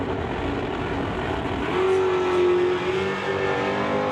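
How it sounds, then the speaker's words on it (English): A 2019 Dodge Challenger with a 392 cubic inch Hemi launches at a drag race, heard as a distant engine roar that swells with a rising whine midway through, set over steady background noise. "2019 Dodge Challenger. 392 cubic inch Hemi."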